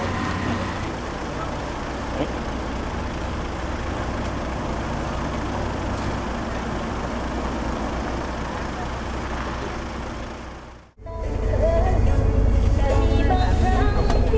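Steady low rumble of a bus engine and road noise inside a moving bus in Laos bound for Vientiane, continuous and droning, growing heavier after a brief dip.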